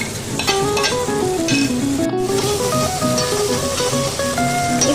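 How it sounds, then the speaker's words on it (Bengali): Fried onion and tomato tipped into hot oil with ginger and green chilli paste for egg suhagi, a loud continuous sizzle with stirring and scraping, a brief gap partway through. "এবার আমি এর মধ্যে দিয়ে দেবো পেঁয়াজ আর টমেটো সাঁতলানোটা।"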